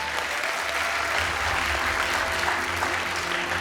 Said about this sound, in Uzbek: Ustozlarimizga bitta guldiroz qarsakinglar